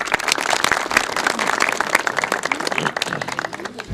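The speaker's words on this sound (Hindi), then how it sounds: "आप सबकी भरपूर तालियों में मैं दावत देता हूँ जनाब तकद्दस माब बिशप आज़ाद मार्शल साहब" An audience applauds to welcome Bishop Azad Marshall at the inauguration of a Christian colony in Manga Mandi, with irregular, lively clapping from a modest crowd that continues without a break.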